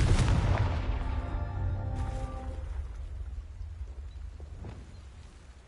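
A Confringo blasting spell bursts in Hogwarts Legacy with a loud, booming explosion at the start, then a ringing, crackling tail fades. A second, softer blast follows around the middle.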